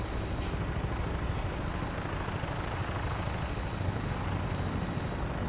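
Aircraft descending and docking in the video game Fallout 4, a steady loud rotor-like engine drone with continuous broadband rumble throughout, no pauses.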